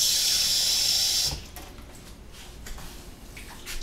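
Water pours into hummus in a steady hiss for about a second, then stops, leaving faint kitchen clatter.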